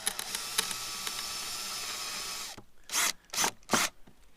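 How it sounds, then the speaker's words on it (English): A cordless hand drill whirs steadily into a stainless steel washer, then stops and gives three short, sharp bursts of drilling. "when you're drilling stainless steel, pressure is more important than speed"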